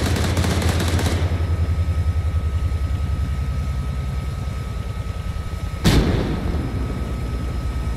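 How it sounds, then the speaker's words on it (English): Heavy artillery fire in the military video game Arma III, a dense, continuous rumble of rapid booming shots with a sharp, loud impact blast near the end. "We get hit by artillery"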